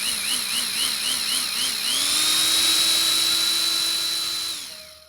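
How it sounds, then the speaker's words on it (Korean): An electric saw blade whines loudly as a sound effect for a horror audio drama, wavering at first, then rising to a steady high-pitched scream before spinning down. "전기톱의 톱날이 요란한 소리를 내며 돌아갔다."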